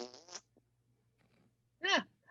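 During an at-home reading of Batman Beyond: Return of the Joker, a voice blows a single short, buzzy raspberry imitating the Joker, close and fairly loud, following a brief vocal sound and a quiet pause.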